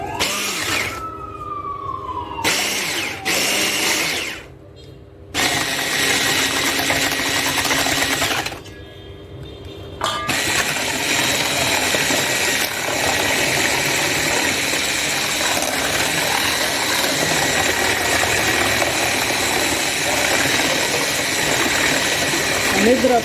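An electric mixer beats eggs and sugar for a sponge cake, a continuous high motor whine with brief gaps where it stops and restarts, steady and close in a kitchen.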